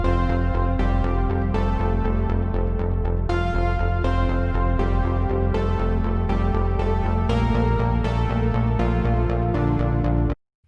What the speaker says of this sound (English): So I have this basic bass and some sort of synthy pattern,